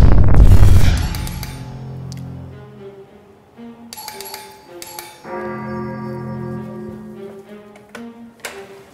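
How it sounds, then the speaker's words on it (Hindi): A doorbell chimes in a home setting, a series of bright ringing tones that sustain and overlap, with repeated presses after an initial loud thump, heard alone and close. "कब से बेल बजा रहा हूँ, खोल क्यों नहीं रही थी?"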